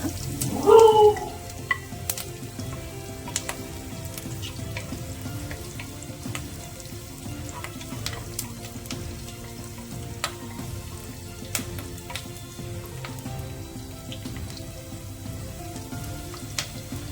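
Onions with curry leaves fry in oil in a pan for a chicken curry, giving a soft, continuous sizzle with faint scattered clicks of stirring and one brief louder clatter near the start, no speech.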